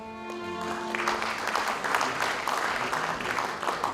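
An audience at an anniversary ceremony applauding award recipients, dense steady clapping that swells after a brief lead-in of music tones and continues throughout.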